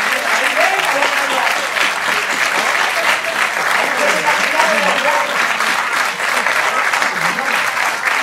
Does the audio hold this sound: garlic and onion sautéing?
no